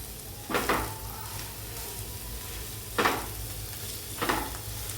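Steady frying sizzle of chopped taro leaves in a hot spice tempering, with three bursts of stirring scrapes in a pan, close and moderately loud, no voices.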